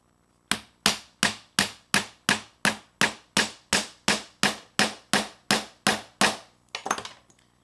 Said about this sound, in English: Takes a bit more hammering